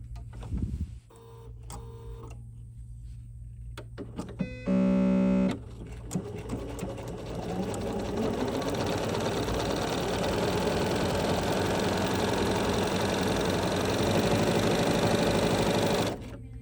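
A Bernina 735 sewing machine starts up and stitches steadily, with a brief loud electronic tone before a continuous mechanical whir and rapid needle clatter that runs for several seconds before stopping.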